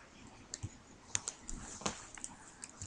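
Keys on a computer keyboard typed in a short, uneven burst of separate clicks, close and fairly quiet, with no talking.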